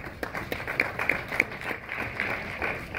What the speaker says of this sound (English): give a big round of applause for none other than Nathan Cleverly